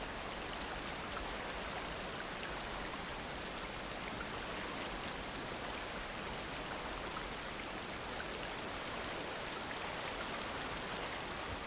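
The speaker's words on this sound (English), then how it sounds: "This water coming up against that boat, it's those waves, they're really loud." Heavy seawater from the game Ships at Sea, set off Norway, breaking and rushing against a boat's hull: a loud, steady wash of noise with no clear gaps, close and constant throughout.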